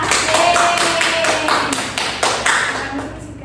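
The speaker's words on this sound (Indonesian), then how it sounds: "untuk anak-anak beri tepuk tangan kepada Isika" Schoolchildren in an elementary classroom clap in a loud, even rhythm with sharp, closely spaced strikes. The clapping fades slightly toward the end.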